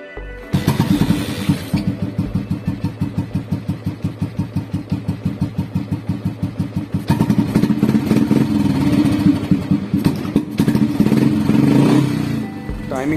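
Royal Enfield motorcycle with an original made-in-England G2 silencer, engine running with slightly off ignition timing: a steady, rapid thumping idle close by, which rises into a louder, fuller revving note around the middle and holds there.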